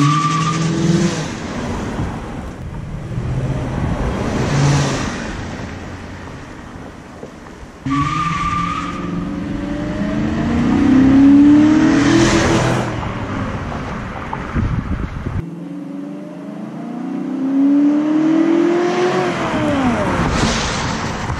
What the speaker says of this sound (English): a burnout. It does spin.